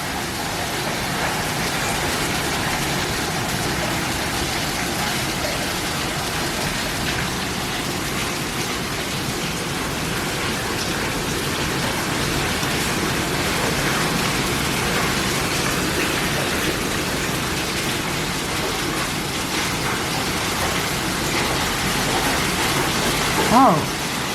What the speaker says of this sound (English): It's hailing. You can see the balls of hail bouncing off of everything.